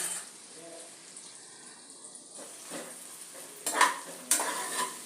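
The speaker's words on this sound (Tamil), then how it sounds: "ஸோ வெங்காயம் வதங்கட்டும் இது வதங்கின அப்புறம் ஒவ்வொரு காயாக நம்ம சேர்த்துக்கலாம்" Onions sautéing in a pan for a vegetable biryani, with a soft, steady sizzle and a few sharper scraping stirs toward the end, fairly quiet and close, with no talking.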